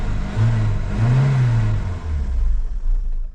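A Vauxhall Cavalier Diplomat 2.0i engine, suffering from power loss, revs up loudly and close by in two rising swells, then drops back toward idle.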